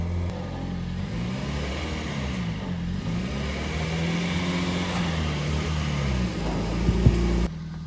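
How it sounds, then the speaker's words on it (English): A Toyota Prius strains at full throttle in reverse, its motor droning steadily with wavering pitch and a slight rise near the end, close and continuous with no talk. "I'm having to push the car with one leg while I'm going full throttle in reverse just to get this thing to move."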